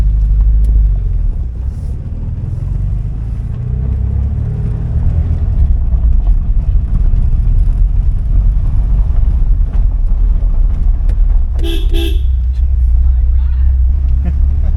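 A 1979 Porsche 924 drives along a back road, heard from inside as a low, steady engine and road rumble that carries throughout, with wind buffeting and a brief faint higher-pitched chirp near the end.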